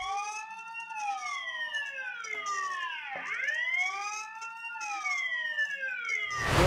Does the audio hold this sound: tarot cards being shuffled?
no